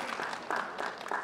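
An audience claps at a Korean ceremony for a disability welfare and transport accessibility policy announcement, a short moderate burst of many hands in uneven rhythm that rises and dips briefly.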